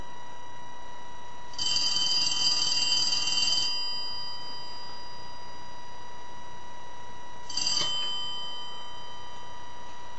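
The bell of an antique brass elephant telephone, opened up for repair, rings loudly for about two seconds, falls silent, then gives one brief clipped ring, with a constant hum between and no voices.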